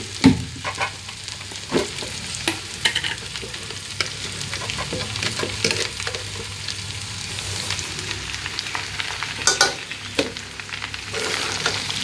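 Pabda fish and dried fish curry with chopped green chillies stirred in a sizzling pan, a steady frying hiss broken by scattered spoon scrapes and clicks, close and continuous with no talking.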